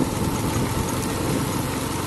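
Motorcycle engine running steadily while ridden at around 40 in fourth gear, the day after a service, with the bike running hot and not yet revving freely; a continuous loud, even drone with no speech over it.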